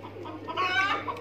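Small hens in a backyard cage setup where they lay and breed cluck softly in a short burst, with a steady low hum running underneath.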